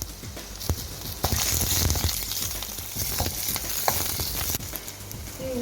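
Green chillies fry in hot oil in a pan for capsicum peanut chutney, a steady close sizzle with occasional stirring scrapes and clicks throughout.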